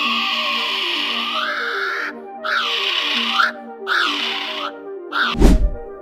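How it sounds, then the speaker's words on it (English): A kiwi bird gives a series of shrill, rising-and-falling whistled calls, repeated about four times at a steady pace and fairly loud, over a faint sustained tonal background. "Number 2. Kiwi bird."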